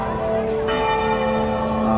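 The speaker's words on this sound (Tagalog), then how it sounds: "Yan pala yung kampana nila." Antipolo Church's bell hums with a sustained ringing tone, and a single fresh strike lands midway through this brief moment.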